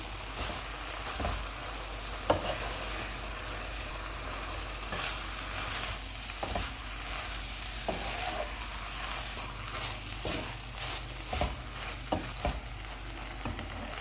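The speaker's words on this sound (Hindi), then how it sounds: "अनारदाने का पाउडर, नमक, ज़ीरा पाउडर, गरम मसाला पाउडर, धनिया पाउडर। इनको 6 से 7 मिनट तक भूनेंगे।" Keema with anardana powder, salt, cumin powder, garam masala and coriander powder roasts in a pan for a bitter-gourd dish, a soft steady sizzle under scattered scraping and knocking from stirring, fairly quiet, with no talking.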